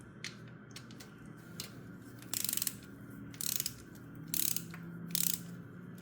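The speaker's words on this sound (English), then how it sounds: "To remove the filter, I have a 13 millimeter socket." A ratchet fitted with a 13 mm socket clicks in several short bursts while loosening the oil filter on a Moto Guzzi V7 850 Special motorcycle, close but fairly quiet, with no voices.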